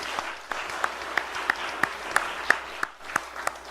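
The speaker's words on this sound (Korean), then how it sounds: "다시 한번 우리 박수 한번 합시다" A church congregation at a Sunday evening service applauds the choir and musicians: a short burst of scattered, moderately loud clapping with a few sharp individual claps standing out.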